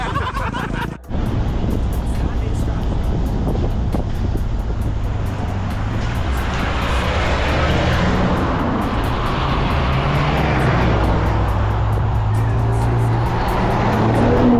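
Car engine droning loud and close with a rising, sustained roar, in a Jamaican countryside setting, after a sharp knock near the start.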